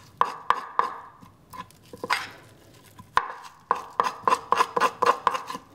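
A metal spoon scrapes over salmon skin laid on a plate while it is hand-tanned, giving a run of sharp, close scraping strokes in an uneven rhythm with short pauses.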